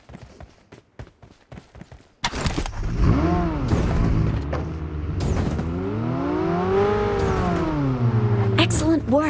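A vehicle driving in BGMI, with a loud, close engine that revs up and down in rising and falling sweeps and runs steadily over several seconds after brief rapid footsteps, with some talk.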